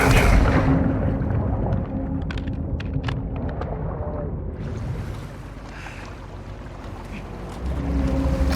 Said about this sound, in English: Guys, that patrol boat needs attention.